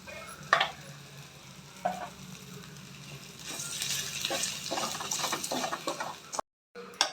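Masala with chilli powder and salt sizzling in a pan for fish kuzhambu, with a spoon scraping and stirring in bursts and a few clanks against the pan, close up, ending in a brief cut to silence.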